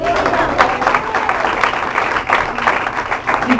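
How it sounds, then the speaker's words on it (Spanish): Applause from a church congregation during a Spanish-language sermon in Los Angeles, a steady wash of clapping lasting several seconds, with voices mixed in. "Denle un aplauso al Señor."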